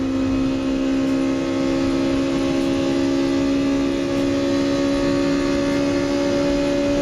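The titanium-rod engine of a Honda NSX holds a high, steady whine with strong tonal harmonics at an 8000 rpm redline, loud and close for the full stretch without a break.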